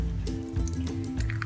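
Thick, creamy yeast cake batter, made without baking powder, is poured into a bowl, producing a brief, close, wet squelching glop and drip.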